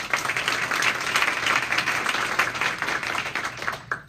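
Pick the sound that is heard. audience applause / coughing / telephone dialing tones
audience applause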